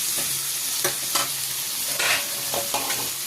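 A spatula stirs potato and pointed gourd curry in a pan, making repeated close scraping strokes against the metal over a soft, continuous sizzle.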